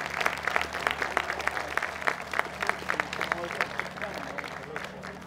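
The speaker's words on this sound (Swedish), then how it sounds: "Än en gång, varma applåder för Josefin Asterhed." Audience applause at an outdoor national day celebration in Harlösa, with steady scattered clapping from a crowd throughout, moderately loud with faint murmuring underneath.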